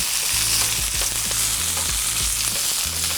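Pork shanks sear in a hot pan with a steady, close sizzle of spitting fat that runs without a break, and faint low clunks of the pan shifting sound underneath.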